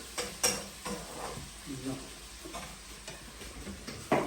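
Ghee sizzling in a pan while a utensil stirs it, soft steady frying with a few sharp scraping clicks and taps of the spoon against the metal, close and moderately quiet.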